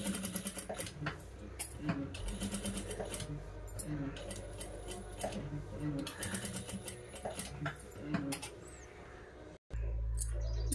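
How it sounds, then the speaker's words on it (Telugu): Sewing machine stitching a line around the neck of a cut work blouse, a steady mechanical run of fast needle strokes with brief pauses, heard close and alone until a sudden stop near the end. "ఈ విధంగా గల్ల మొత్తం అనుగుడు కుట్టు అనేది వేసుకోవాలి."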